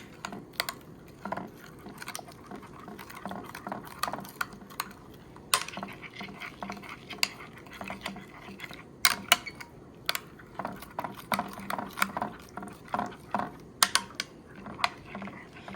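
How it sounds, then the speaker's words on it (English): Spoon stirring thick yogurt thinned with water in a bowl, with irregular clicking and scraping taps against the bowl, close and fairly quiet, continuing steadily throughout. "I'm gonna keep mixing it"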